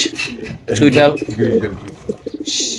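Racing pigeons, white grizzle and other birds kept for sale at a pigeon market, coo and call softly, with people talking over them through most of the moment.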